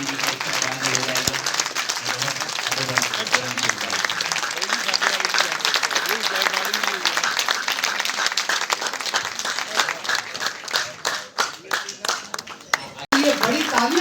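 Audience applause fills a poetry gathering (kavi sammelan) in Patiala, with dense, steady clapping from a crowd that stays loud throughout and thins out slightly near the end.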